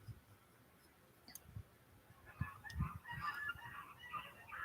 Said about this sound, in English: I'm friends with geese.